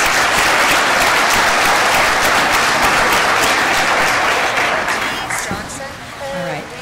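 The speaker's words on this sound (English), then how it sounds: "So we can give those graduates a round of applause." An audience at a commencement ceremony applauds the graduates, dense sustained clapping filling the hall before thinning and fading near the end as a voice comes in.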